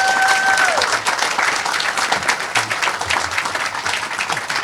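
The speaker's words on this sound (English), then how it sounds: "Let's give him a round of applause" A crowd applauds steadily, dense clapping filling the whole stretch at a loud, even level with no voices on top.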